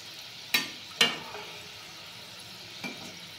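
Bakarwadi rolls fry in oil over a medium flame with a soft, steady sizzle, broken by three sharp clinks as a utensil gently stirs them, two close together and a fainter one later.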